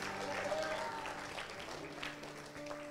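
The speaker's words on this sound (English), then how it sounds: "Give him a shout offering and a clap offering" A church congregation claps together during a service. The applause is fairly soft and continuous, with sustained musical tones and a few voices mixed underneath.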